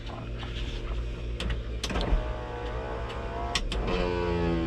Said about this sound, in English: Electric windows all work.